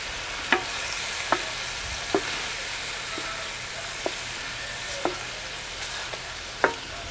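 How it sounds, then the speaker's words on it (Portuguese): Pork neck sautéing in a pot over an outdoor campfire, with a constant close sizzle. About eight sharp spoon scrapes against the metal land roughly once a second. "vamos refogar o bichinho aqui"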